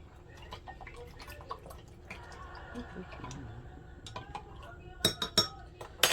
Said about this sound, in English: I'm going to take a spoon, give that a stir